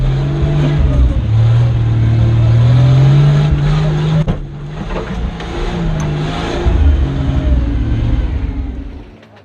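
Unmodified rally cars, including Chargers, labour through a rocky riverbed, engines droning and revving loudly up close, with a sharp knock midway and the noise easing before building again.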